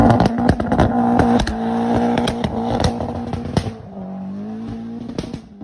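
Audi A3 hatchback with a 1.8 liter turbo engine and Quattro all-wheel drive, revving hard and loud up close, then settling to a lower, steadier hum.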